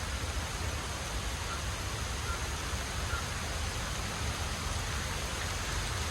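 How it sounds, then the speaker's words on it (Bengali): Steady rain falls all around in a park, a continuous broadband hiss with no pauses, fairly even in level throughout. "বৃষ্টি পড়ছে চারিদিকে"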